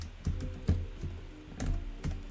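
Keys on a wireless computer keyboard are struck in a short, uneven run of several soft, close clicks, with no voices over them.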